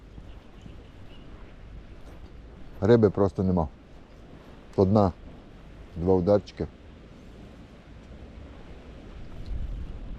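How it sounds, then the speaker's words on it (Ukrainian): Steady wind rushes over choppy lake waves while someone speaks a few short phrases nearby during pike fishing. "Вітер так дує."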